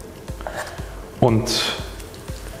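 Spoonfuls of grated potato pancake batter pressed flat in a hot pan on an induction hob at setting 7, giving a brief soft sizzle under a man's speech.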